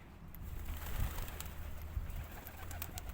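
Pigeons coo softly in a park, low throaty calls rising faintly out of quiet outdoor background noise, with no talking.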